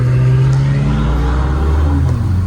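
A BMW M5 G90 in traffic on the roads around Saint-Tropez gives off a deep, steady engine drone with a low rumble, close and loud, holding an even note without revving.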